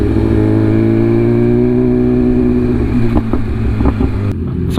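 A BMW S1000RR M Package motorcycle engine drones loudly and steadily on a city test ride, a smooth, close hum that eases slightly, with a few small clicks and knocks toward the end.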